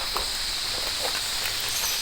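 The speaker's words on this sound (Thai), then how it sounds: "ตอนนี้ฝนตกปล่อยๆนะครับท่านผู้ชม" Steady hiss of rain falling in a tropical rainforest, dense and even with occasional soft drips and patters close by.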